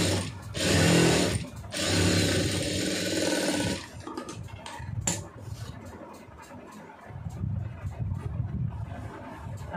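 A sewing machine runs in steady bursts, stitching a quarter-inch seam on fabric, loud and close, with short pauses and lighter mechanical clatter between runs.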